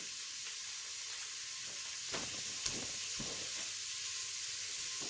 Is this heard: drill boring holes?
no